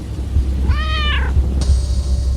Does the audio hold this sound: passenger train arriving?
no